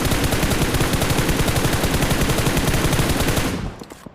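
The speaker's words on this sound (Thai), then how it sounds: "เหมือนข้างบนเขายิงแจมกันอยู่นะตรงนี้" A long, rapid burst of automatic gunfire from the PUBG Mobile video game, dense and loud with evenly spaced shots for about three and a half seconds before cutting off.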